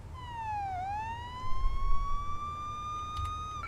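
A police car siren in the video game Police Simulator: Patrol Officers wails, its pitch dipping then gliding steadily upward in a single long sweep, loud and close over a low rumbling background.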